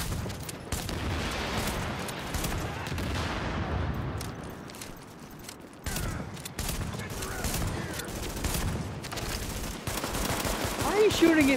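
Sustained bursts of automatic gunfire from a firefight in The Division video game, dense and continuous across the whole stretch, with a brief lull midway before the shooting resumes.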